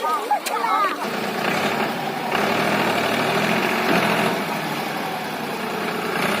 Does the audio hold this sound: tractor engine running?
yes